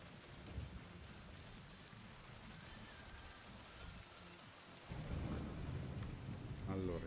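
Steady rainfall hisses in the background with low, rolling thunder, a soft constant wash that swells louder in the final seconds. Nobody speaks.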